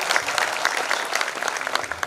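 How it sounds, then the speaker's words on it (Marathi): An audience at a kirtan gathering claps loudly and continuously in a dense, close burst of applause that lasts the whole moment. "जोरदार टाळ्या."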